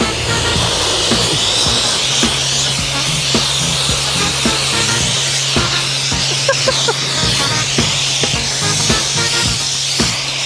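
Car wash spray hisses steadily against a car, heard from inside the car, with a low engine hum and scattered knocks and taps throughout.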